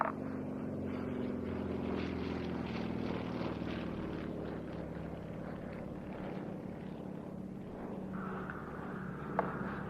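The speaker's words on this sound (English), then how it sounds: "now we're going to see what I was talking about with regard to the aerobatic capabilities of the Yak 52" A Yak-52 propeller aircraft flies aerobatics at an airshow evening, its engine drone steady and distant throughout, rising and falling slightly, with no talk.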